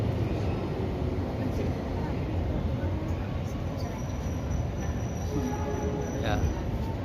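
A KRL commuter train bound for Cikarang at Jatinegara station produces a loud continuous low rumble from close by, with faint squeals and background voices under it.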